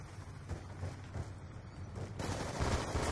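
Rapid automatic gunfire and explosive bursts from the Black Ops 2 video game in a Demolition match, dense and continuous, growing louder and busier toward the end with no talking over it.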